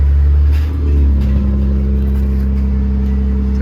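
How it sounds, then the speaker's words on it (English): A 2015 Chrysler 200 with its muffler deleted idles with a loud, deep, steady exhaust rumble close by, a low droning tone holding throughout with no talking. "We just did a muffler delete in the back here."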